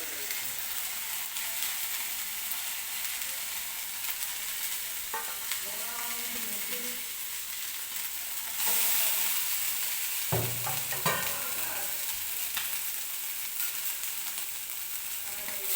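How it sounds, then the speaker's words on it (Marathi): Sweet corn kernels stripped from two cobs are stirred while roasting in a pan, giving a soft, steady sizzle broken by a few scraping stirs and clinks, fairly quiet throughout. "कणीस व्यवस्थित आपल्याला सुरुवातीला भाजून घ्यायचं आहे."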